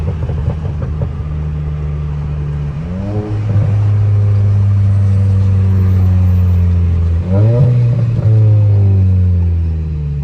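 A Volkswagen GTI engine revs hard through a second-gear pull, a loud, close, rising drone that climbs in pitch, drops briefly at a shift and then climbs again, with no talk.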